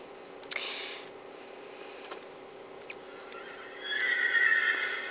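Horses neigh in a Minecraft horse-breeding mod game: a brief click early on, then a long, bright whinny toward the end, clean and game-like with no voice over it.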